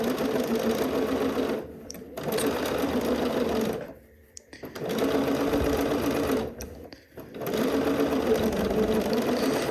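A sewing machine stitches a sleeve and ruffle seam on a Cashmerette Loring dress, running in steady close bursts broken by a few short pauses.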